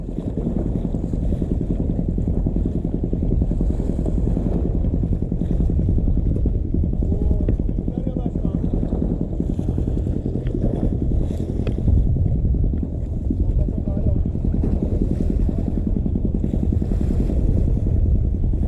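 A boat motor drones steadily and loudly as the vessel passes close to a fishing spot at sea, a continuous low engine rumble mixed with wind buffeting the microphone.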